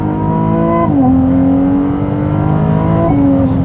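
A 2023 Ferrari 296 GTB with a V6 engine downshifts and accelerates from inside the car, its loud, steady engine note dropping in pitch at each gear change and then climbing again.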